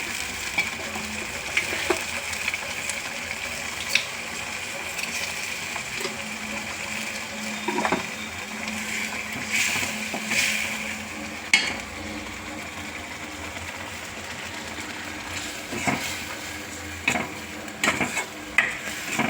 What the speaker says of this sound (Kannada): ಇದೆಲ್ಲ ಎಣ್ಣೆ ಬಿಟ್ಕೊಳ್ಳೋವರೆಗೂ ಈ ಥರ ಕೈ ಆಡಿಸ್ತಾ ಇರಬೇಕು